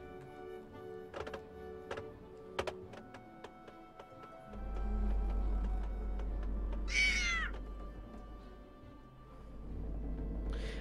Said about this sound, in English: I got an achievement called Cat Lover for pouncing on the cat a certain number of times